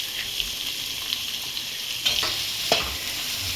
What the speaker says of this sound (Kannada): ಸೊ ಈಗ ಈರುಳ್ಳಿ ಸ್ವಲ್ಪ ರೋಸ್ಟ್ ಆಗ್ತಿದ್ದಂಗೆ